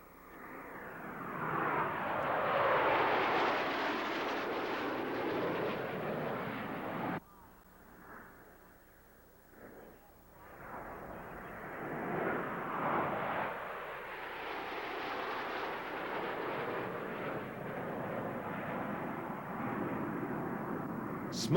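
Canadian Snowbirds formation jets roar overhead at the 1985 Reno Air Races, the engine noise swelling and fading as the planes pass, dipping briefly and then building again, with a narrator speaking over it.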